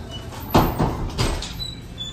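A store door being opened at a Walgreens, a close, loud burst of sliding and rattling that swells and fades in two or three surges over steady background noise.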